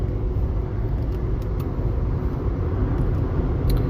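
Steady low road rumble from inside a moving car, a continuous engine and tyre drone filling the low end with no speech over it.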